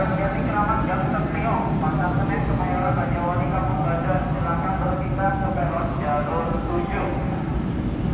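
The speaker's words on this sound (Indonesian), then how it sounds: "itu di jalur 3 barusan berangkat kereta api Jayakarta dengan tujuan akhir stasiun Surabaya Gubeng via jalur selatan" Jayakarta passenger train, one of the longest on the southern line, leaving track 3 toward Surabaya Gubeng, a steady loud rumble of rolling carriages with someone talking over it.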